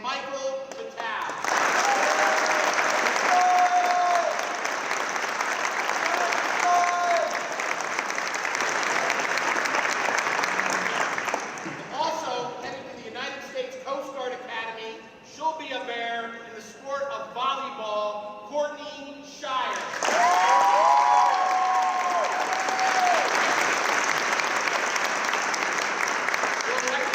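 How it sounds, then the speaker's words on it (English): Bursts of crowd applause and cheering at a high school athletic signing ceremony, loud clapping at the start and again near the end, with a stretch of amplified talk in between. "They'll be cheering."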